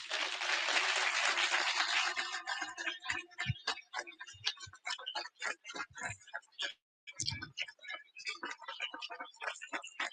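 A conference audience applauds the event's volunteers, loud clapping at first that soon thins into scattered claps and sparse taps as it dies away.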